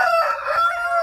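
A Shamo Aseel stag rooster crows once, loud and close, a single sustained call with no talk over it.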